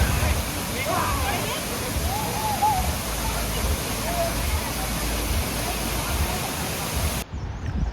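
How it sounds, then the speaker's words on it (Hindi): Lapas waterfall in Barot Valley gives a steady, broad roar of falling water that fills the scene, with faint voices of people nearby under it before it cuts off abruptly at the end. "ये है लापस वाटरफॉल।"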